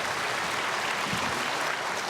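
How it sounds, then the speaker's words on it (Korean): A church congregation claps to welcome a member coming forward to give a baptism testimony, a brief, dense, even burst of applause throughout. "나오실 때 박수로 우리 환영하겠습니다."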